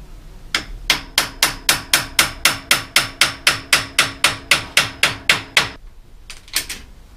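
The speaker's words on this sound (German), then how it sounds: "Und dann kann man das hier mit einem Schraubenzieher und einem Hämmerchen vorsichtig" A small hammer taps a screwdriver to drive a part into a Busch Müller Eyro bicycle light during a repair, about twenty close, sharp metallic knocks in a quick, even rhythm, then a pause and a few final taps.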